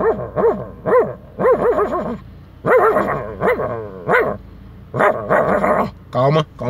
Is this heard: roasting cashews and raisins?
no